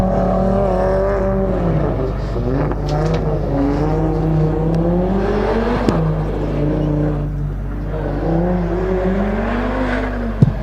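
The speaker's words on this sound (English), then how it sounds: "Car number 78, driven by Oliver and his RS3. Lovely sounding car, this one." An Audi RS3 accelerates hard up a hillclimb course, its engine note rising and falling through gear changes as a steady, loud drone that continues throughout.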